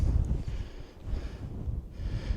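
Strong wind on Lowther Hill at a solo tent camp buffets the microphone in low, rumbling gusts that rise and fall over a few seconds, with no voices.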